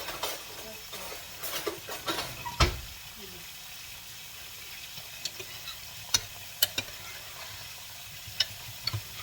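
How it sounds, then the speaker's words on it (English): Potatoes are stirred in a slow cooker for an apple and cranberry pork chop dish: soft scrapes and knocks of a utensil, with a few sharper clinks against the pot over a quiet background. "I'm going to stir it so it'll mix up"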